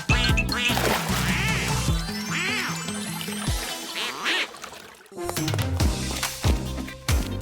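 Ducks quack in a rapid run of loud, close calls, layered over a busy mix of other background sounds, with a short lull before the quacking resumes.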